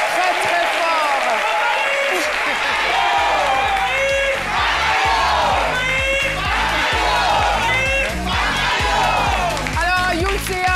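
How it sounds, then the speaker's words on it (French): An audience at the televised midday show C'Midi applauds loudly and cheers with whoops and shouts, building into dense continuous clapping that fills the entire stretch. "Merci de l'applaudir très fort."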